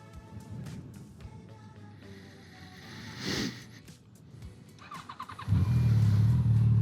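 A motorcycle on a ride out of a park carries a changing engine note that builds into a loud, steady low drone over the last second or so. It is close to the recording point and no one speaks.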